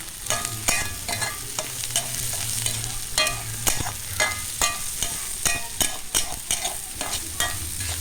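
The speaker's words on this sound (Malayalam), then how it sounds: "അരിഞ്ഞിട്ടിരിക്കുന്ന ഇഞ്ചി വെളുത്തുള്ളി നമുക്ക് കൊടുക്കാം കേട്ടോ നന്നായിട്ടൊന്ന് മിക്സ് ചെയ്യാം" Chopped ginger and garlic fry in a pan while a spoon stirs them briskly, giving rhythmic close scrapes and clacks over a constant sizzle.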